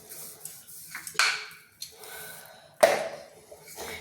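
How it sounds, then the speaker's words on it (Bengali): Pea-stuffed paratha dough is rolled thin with a rolling pin on a greased slab, giving a few soft scraping rolls and knocks with quiet pauses between, close and fairly faint. "দিয়ে এই নেচিটাকে আমি বেলে নিচ্ছি, যতটা সম্ভব পাতলা করে"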